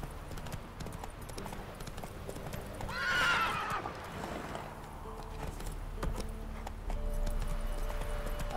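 A horse whinnies once, loud and close, amid the steady clip-clop of hooves walking, over a low background hum, in the video game The Witcher 3.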